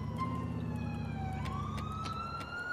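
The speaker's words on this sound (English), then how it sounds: "Oop, there goes an ambulance." Ambulance siren in GTA IV, a wailing tone that dips and then rises again, heard moderately close over a low rumbling engine drone.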